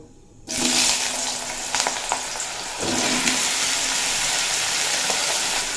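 Pieces of bottle gourd dropped into hot oil over black cumin seeds on a high flame, bursting into a loud, steady sizzle that starts abruptly and hisses on continuously, with a brief stir partway through.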